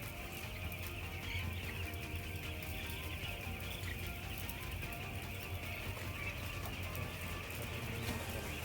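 Broiler chickens inside a semi-closed poultry house, a steady dense chorus of clucks and chirps with constant fan-like hum throughout, no talk.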